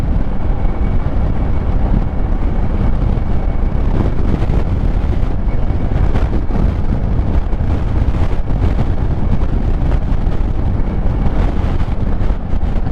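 A loud, constant roar of wind buffeting the microphone on a moving Kymco AK 550 motorcycle, with a low engine rumble beneath and occasional stronger gusts.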